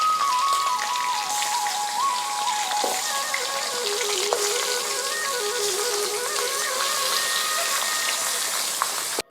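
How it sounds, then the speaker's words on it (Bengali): Rohu fish heads fry in hot oil with a dense, steady crackle and sizzle, loud and close, while a faint tonal melody runs beneath; no talking. "এখন বাকি মাছগুলিও ভেজে নেব, মাছের মাথাগুলি।"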